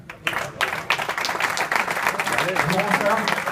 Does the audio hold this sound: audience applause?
yes